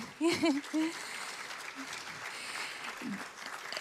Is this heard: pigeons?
no